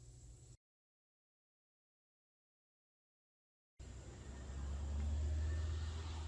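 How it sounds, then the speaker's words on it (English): A car passes nearby with a low engine rumble that swells to a loud, steady peak near the end after a stretch of silence. "Wait till the car goes by."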